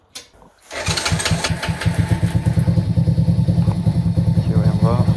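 A Masaï Greystone 50cc motorbike with a newly replaced clutch: a short starter attempt, then the small engine catches and settles into a rapid, steady, pulsing idle, loud and close, running alone without speech.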